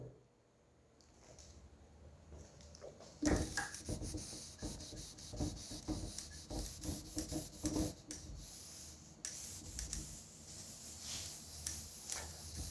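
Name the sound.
rubbing out writing on the board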